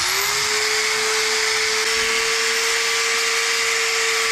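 A high-pitched power tool whines steadily and loudly for several seconds without a break as it smooths rough, chunky spots on a part for an off-road hot rod.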